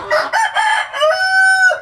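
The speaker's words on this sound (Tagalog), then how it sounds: "Ito yung rooster na ginagamit ko na basilan na 8 months old." An 8-month-old pure Basilan rooster gives a single loud, close crow lasting under two seconds. It breaks into several syllables and ends in a long drawn-out note.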